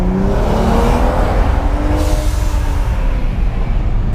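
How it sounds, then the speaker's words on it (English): A BMW F10 revs hard inside a parking garage, its engine note rising and falling with strong reverberation off the concrete, then a sharp hissing whoosh of the blow-off valve venting partway through, loud and close with no talking. "You like that blow valve?"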